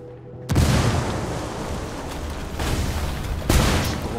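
A frag grenade goes off in Ghost Recon Wildlands with a sudden loud boom, then a long rumbling roar of debris and echoes, and a second sharp blast about three seconds later.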